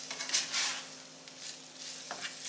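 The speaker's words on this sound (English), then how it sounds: "Just dump our ground beef in here. Give that a little stir." Ground beef stirred in a pot, a soft scraping and shuffling stir over a faint steady sizzle, close up with a brief utensil knock near the end and no voices.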